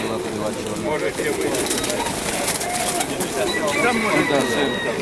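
Pigeons coo and flutter nearby amid a busy, noisy background at a pigeon fair in Dnipro, with people talking over the birds.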